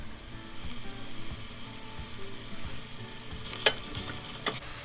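Chickpea rice masala with tomatoes, yogurt, chili flakes and black pepper being stir-fried in a pot, a soft steady sizzle under scraping stirs, with two sharp spoon clinks near the end.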